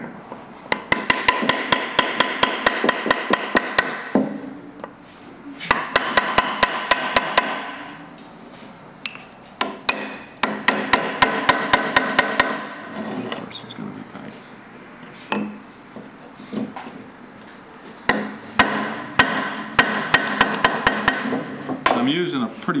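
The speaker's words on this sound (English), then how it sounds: "I'm using a pretty blunt chisel, but it's not being very friendly." A blunt chisel is hammered against the differential of a Rolls-Royce Silver Cloud III, giving rapid bursts of sharp metallic strikes in repeated runs with short pauses between them.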